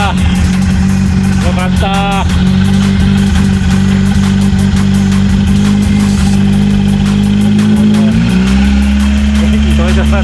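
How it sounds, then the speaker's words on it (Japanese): A Nissan Primera Autech (HP10) engine, recovered from flood damage and still running rough, idles loudly up close with a steady rumble, its pitch shifting as it's revved, while people talk briefly over it. "まだ調子は悪いですけど、とりあえずアイドリングしています。"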